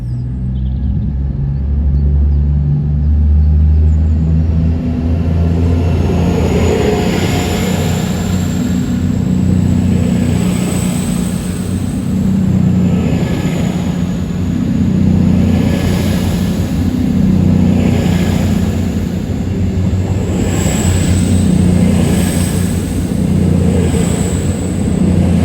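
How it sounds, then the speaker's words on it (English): An Avanti West Coast double Voyager diesel train passes, a loud, sustained low engine rumble and droning roar that swells and fades in slow waves over about twenty-five seconds, with no talking. "And an Avanti West Coast double Voyager set."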